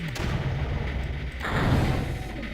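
Mortars fire in the Creeper World strategy game: a few muffled thumping launches over a steady low rumble, fairly close and moderately loud.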